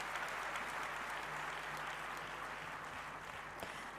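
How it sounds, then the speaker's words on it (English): Steady applause from an audience at a youth consultation event in Bengaluru, honoring cultural performers; dense, continuous clapping at an even level throughout with no speech. "please give them all a big round of applause"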